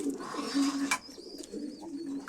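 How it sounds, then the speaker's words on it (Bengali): A breeding pair of pigeons, the hen a silver pigeon, coos in a low, rolling, repeated call close by, with no talking over it. "এই হচ্ছে এক পেয়ার কবুতর মাদিটা হচ্ছে সিলভার কবুতর"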